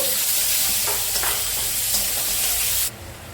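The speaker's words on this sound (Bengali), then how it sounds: "পেঁয়াজ দিয়ে আরো দুই মিনিটের মতো ভাজতে নিব" Chopped onions fry in hot mustard oil in a pan, a steady close sizzle with stirring scrapes, cutting off sharply near the end to a quieter hiss.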